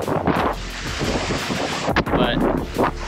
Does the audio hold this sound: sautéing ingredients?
no